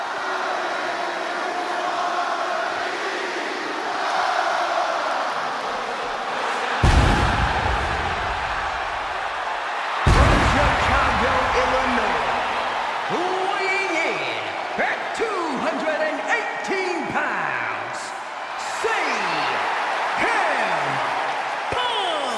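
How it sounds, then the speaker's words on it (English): A roaring arena crowd in the wrestling video game WWE 2K26 gives a sustained ovation, a dense wash of cheering with a couple of sharp loud bursts and scattered whistles, with commentators talking over it. "Just listen to this ovation for the Second City Saint."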